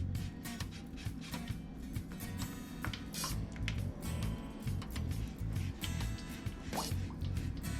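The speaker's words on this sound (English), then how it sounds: "I'm straining the sea moss guys and I will blend." Boiled, very thick sea moss being strained for a Jamaican strong back drink, giving a steady close wet patter of dripping and squishing liquid with faint clicks throughout.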